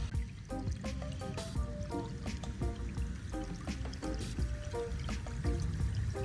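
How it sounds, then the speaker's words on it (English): Water bubbling and popping in a pan set up over a river to cook shrimps inside a melon, with an irregular run of liquid drips and gurgles over steady outdoor background noise throughout. "The water's bubbling in the pan."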